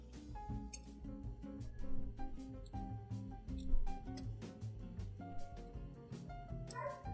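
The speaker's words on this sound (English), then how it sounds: "Say hello to the neighbor's dogs." Several neighborhood dogs bark and yip at a moderate distance in short irregular bursts throughout, carrying into a quiet room during Nikon FM camera maintenance.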